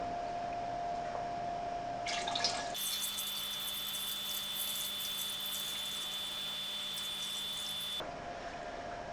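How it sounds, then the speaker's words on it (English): Water pours steadily into a Fluval Edge reef aquarium tank during a water change, a continuous splashing and gurgling stream with a faint tonal hum, close and alone without talk. "So most of the tank is filled up now"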